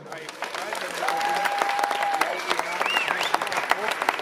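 Steady crowd applause builds and continues at an outdoor contest in Rheinbach, dense clapping with a voice speaking over it and a brief whistle-like tone.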